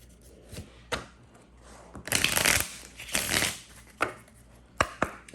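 A tarot card deck being shuffled, with soft riffling bursts and sharp taps of the cards, a few louder flurries in the middle, close and with no speech over it.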